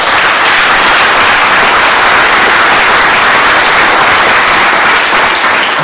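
An audience at a public forum on the closing of the Templeton Developmental Center bursts into loud, sustained applause, dense clapping filling the room without a break.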